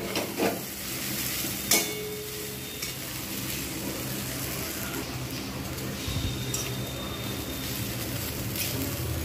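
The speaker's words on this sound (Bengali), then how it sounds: "ভালো করে কিন্তু আমি এরকমভাবে নাড়তে থাকবো" Egg chow mein stirred and fried in a pan, with a steady soft sizzle and occasional scrape or clink of a utensil against the metal throughout.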